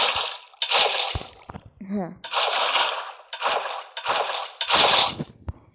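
Water splashing as a pool is filled in the Minecraft video game, several bursts of sloshing and splatter in quick succession, each loud and close, with a voice briefly heard between them.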